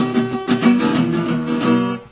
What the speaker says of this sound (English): if you don't push really hard, and you kind of hold all your fingers down so that they are muffling the strings